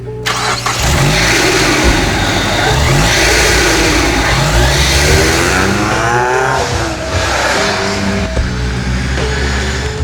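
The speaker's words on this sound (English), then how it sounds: "After the first test drive, the car was making boost again." A turbocharged project car's engine runs after a belt repair, starting up and then idling and revving loudly and close by with rising and falling pitch sweeps for about ten seconds.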